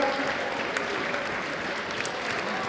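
Sustained audience applause fills the hall after the grand final of a Super Smash Bros. for Wii U (Sm4sh) solo tournament, steady and dense throughout with some crowd noise underneath.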